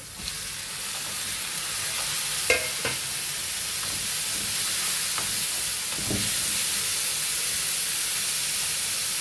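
Tomatoes frying with onions in a pan for an Anapakaya (bottle gourd) curry, giving a steady broad sizzle with a few sharp scrapes and clinks of stirring, moderately close.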